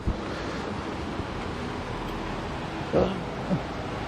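The Supin river rushes steadily along a mountain trek trail, a broad continuous roar of flowing water with wind buffeting the microphone and a couple of brief knocks near the end.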